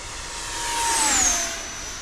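An RC L39 jet model airplane makes a full-throttle speed pass with a 10s setup, its high turbine whine rising as it approaches and then dropping in pitch as it sweeps past.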